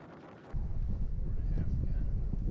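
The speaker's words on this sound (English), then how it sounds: "it was a pretty strong wind, so it started blowing the bow off course." Strong wind buffeting a boat out on the water, a steady roaring rush of noise against the microphone that swells in suddenly after a brief quieter moment.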